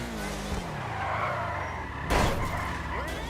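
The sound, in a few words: car skidding on handbrake in video game GTA 5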